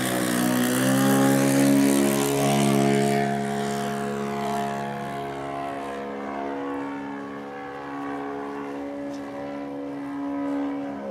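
A Carl Goldberg Ultimate Biplane 10-300 radio-controlled model airplane on its maiden flight, its small engine giving a steady, buzzing propeller drone that shifts in pitch as it passes overhead and stays audible throughout without talking.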